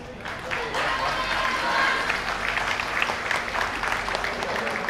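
Outdoor crowd at the Morioka YOSAKOI Sansa festival, Odori Michimata clock shop venue, applauding a YOSAKOI dance team, with sustained clapping and scattered cheers near the listener, voices mixed in throughout.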